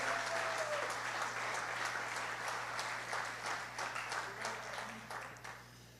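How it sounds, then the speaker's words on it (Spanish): A church congregation applauds Jesus of Nazareth during a sermon, a steady wash of many hands clapping that carries on without a break over a constant low hum, with a murmur of voices underneath that fades slightly toward the end. "Dale un aplauso a Jesús de Nazaret."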